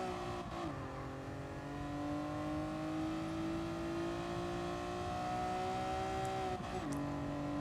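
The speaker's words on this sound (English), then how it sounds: "Check out the Evo drift." An Evo car drifting in Gran Turismo Sport: a sustained engine whine rises slowly, with brief dips and blips at the start and end as the throttle shifts, loud and steady with no talking.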